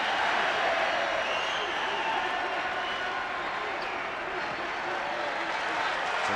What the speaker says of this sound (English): The noise you hear is a reaction from the Kentucky crowd as Beck fouls out